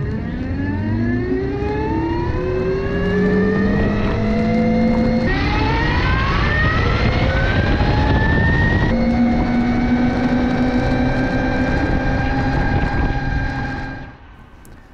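A Horwin EK3 electric motorbike under way, its chain, sprocket and motor giving a loud rising whine that climbs in pitch, steps, and climbs again before cutting off near the end, with no voices.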